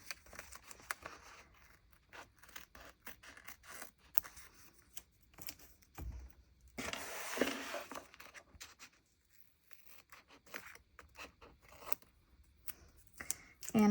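Scissors trim journal pages in quiet bursts of snipping and paper rustling, close and soft, with a longer cut partway through.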